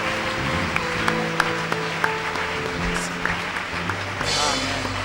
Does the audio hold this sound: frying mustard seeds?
no